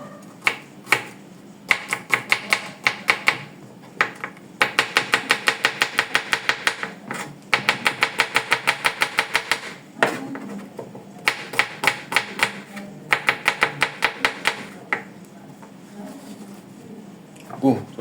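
Garlic being chopped on a board for a stew of lentils and peas, heard as fast, rhythmic knife taps in quick bursts with short pauses, close and loud, while someone talks over parts of it.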